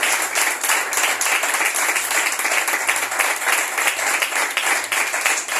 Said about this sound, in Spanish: Entonces hágale fuerte las palmas a aquel que vive y reina por los siglos de los siglos.